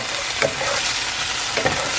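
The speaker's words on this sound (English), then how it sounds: "Add your garlic. Mix all that around." Garlic and red curry powder sizzle in a hot pan while being stirred, a steady close frying hiss broken by two scraping stirs, with no talking.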